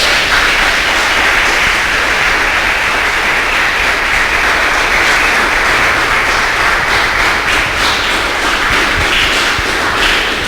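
Church congregation applauding after the bishop's sermon prompt, a steady, dense wash of many hands clapping that holds loud and even throughout.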